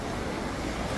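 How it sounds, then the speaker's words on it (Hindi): Waves of the Ganges river at Har Ki Pauri in Haridwar make a steady, dense wash of water close by, with no voices over it. "ये देखिए गंगा जी की लहरों को।"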